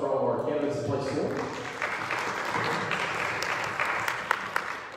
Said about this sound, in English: Let's do a new round of applause for all of our candidates in place four.